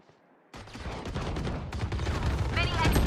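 A swarm grenade goes off in Valorant after a brief quiet moment, unleashing a loud, dense, continuous burst of rapid crackling blasts that keeps building for a few seconds.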